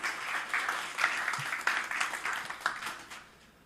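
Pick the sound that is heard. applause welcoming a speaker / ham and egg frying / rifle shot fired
applause welcoming a speaker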